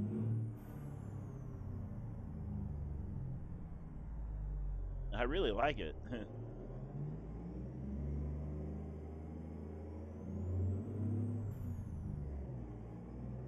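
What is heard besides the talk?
Cummins 444 truck engine in American Truck Simulator video game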